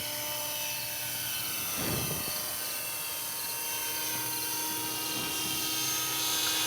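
A small RC scale Schweizer 300C model helicopter hovers nearby with a steady high-pitched whine and buzzing rotor hum that rises slightly toward the end.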